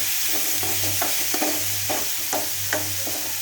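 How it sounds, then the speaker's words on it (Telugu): Tomato curry being stirred in a pan with a ladle, a loud constant sizzle overlaid by repeated soft scraping strokes in an uneven rhythm, up close with no talking. "మళ్ళీ ఒకసారి గరిటెతోటి అన్నీ కలిసే విధంగా ఇలా తిప్పుకోవాలి"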